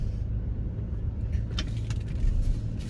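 A BMW E93 M3 convertible on lowering springs reverses slowly, giving a steady low engine rumble and road noise with a few faint light clinks partway through.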